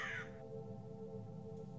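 A crow gives a single short, harsh caw at the start, then quieter background sound continues.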